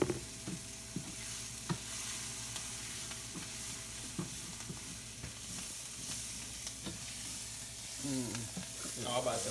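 Butter sizzling in a frying pan, a soft steady crackle with occasional clinks and quiet background movement, fairly faint throughout.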